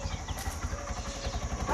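A motorcycle engine idles with a steady low putter close by, running throughout a short stretch with faint background voices in a village setting.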